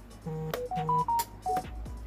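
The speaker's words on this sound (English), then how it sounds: "Hate when I get a text message." Short tonal phone notification chime, a few quick beeps at different pitches, close and clear with no talking.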